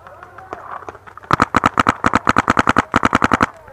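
Airsoft guns fire in a rapid, evenly spaced volley during a team game in the woods, the sharp cracks starting after a brief stretch of quieter movement and continuing loud and close to the end.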